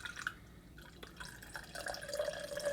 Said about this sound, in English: I am pouring this straight down in the hopes that, okay, so it is effervescing just a slight bit